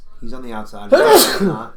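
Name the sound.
sneeze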